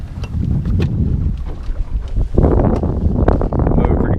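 A sailboat with its jib set moves steadily through the water, giving a continuous rush of wind and water noise that strengthens partway through, with no talking.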